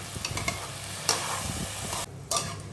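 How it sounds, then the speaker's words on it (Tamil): Tamarind water is poured into a pan of sizzling mashed tomatoes for a bitter gourd side dish, with a steady close sizzle, stirring scrapes and a couple of sharper hissing bursts. "பாருங்கள், புளி தண்ணி ஊற்றுறேன்."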